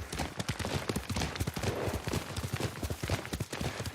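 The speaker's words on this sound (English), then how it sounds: "Yuriko's horse." Horse hooves clip-clop steadily in a rhythmic, close gallop-to-trot pattern in the Ghost of Tsushima video game, loud and continuous throughout with faint background game ambience.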